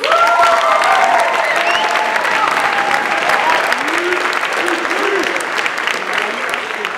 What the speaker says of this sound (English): Let's give ourselves one more round of applause.